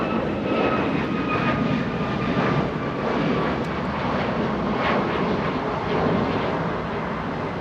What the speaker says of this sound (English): We have a departure that is United Airlines A737 flying to Hawaii.